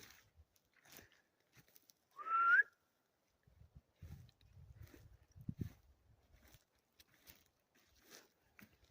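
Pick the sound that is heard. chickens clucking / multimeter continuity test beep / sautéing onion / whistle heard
whistle heard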